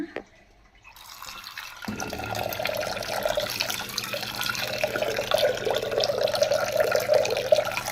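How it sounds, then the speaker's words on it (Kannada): Water from a water filter tap starts running into a vessel after a quiet moment, then keeps flowing as a steady, close splashing trickle that fills the container. "ಇಲ್ಲಿ ಫಿಲ್ಟ್ರಲ್ಲಿ ನೀರು ಹಿಡಿಯೋಣ"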